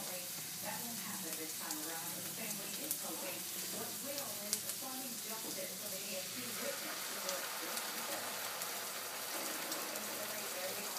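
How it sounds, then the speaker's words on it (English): Leftover fairy tale pumpkin soup heating in a pot, giving a steady, close hiss and sizzle with scattered small pops and bubbling that carries on without a break. "add this fairy tale pumpkin soup that's left over into this pot and heat it up"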